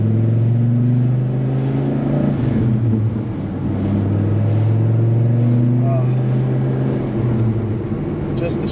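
Third-generation Dodge Viper with its stock side exhaust pulling through gears, a loud, steady engine drone that drops and climbs again at each smooth shift, close by from inside the car, with a voice murmuring underneath.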